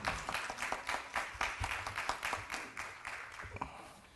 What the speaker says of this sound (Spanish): Un aplauso y adelante, doctora